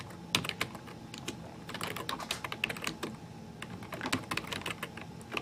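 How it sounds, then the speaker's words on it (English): Fast typing on a computer keyboard while setting up git configuration, a dense run of close, crisp key clicks in uneven bursts with brief pauses, no speech. "I think I'm getting the hang of this keyboard a little better"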